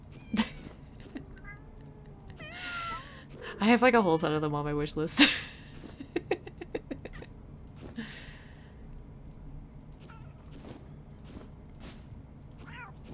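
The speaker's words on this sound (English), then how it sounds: "I love the cat sounds so much." Cartoonish cat meows from the video game I Commissioned Some Cats rise in a short cluster partway through, heard beneath and between a person talking.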